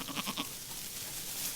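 Sheep on the Villarceau farm estate give a few short, quavering bleats at the start. The calls are moderately close and sit over a constant wash of outdoor noise that continues after they stop.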